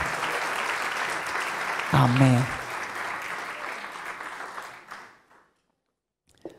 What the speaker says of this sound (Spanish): Si usted lo cree, dele un aplauso al Señor.